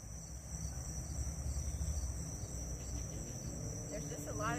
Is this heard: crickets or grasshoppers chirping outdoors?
yes